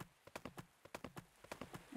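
A dark horse ridden in the farming game Pumpkin Days clip-clops along with a steady, quick hoofbeat rhythm. The hooves are quiet and fairly close, and no one talks over them.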